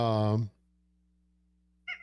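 A cat gives a single loud, drawn-out meow up close, followed by a short pause and the start of a faint second cry.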